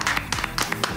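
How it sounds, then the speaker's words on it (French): Studio audience on an Ivorian radio show applauding Olivier Doumou, heard as a short burst of scattered, uneven claps from a small group, close and moderately loud. "on peut l'applaudir très très fort."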